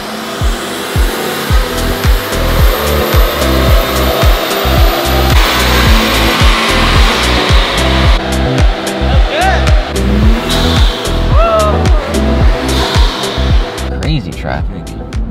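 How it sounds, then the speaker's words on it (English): A Ford Bronco, built as a Heritage Edition replica, runs with a loud aftermarket exhaust, giving a throbbing, pulsing rumble close by under intermittent voices, with a few rising revs toward the end. "This exhaust is pretty loud."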